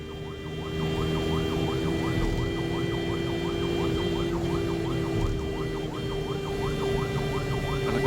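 An ambulance carrying a child to hospital in Kannur sounds its siren in a fast, repeating wail over steady road and engine noise, loud and continuous throughout with no talk.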